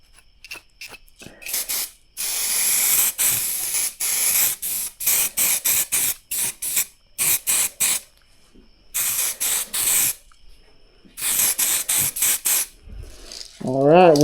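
Spray gun laying down a thicker coat of paint on an automotive part, heard as a series of close, loud hissing bursts of varying length separated by short pauses, with brief talking near the end.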